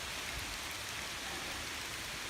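Rain beginning to fall in a forest near old cabin ruins, a steady broadband hiss of drops on leaves and ground, continuous and even throughout with no voices.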